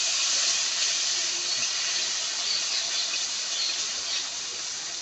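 Shol fish frying in oil for a green mango curry, a steady loud hiss of sizzling that stays even throughout with no talk.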